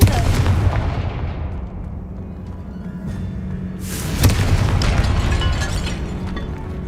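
A Confringo spell explosion in a video game set in a tomb hits with a deep rumbling boom, then a second sharp crack and roar that trail off in a loud echoing tail.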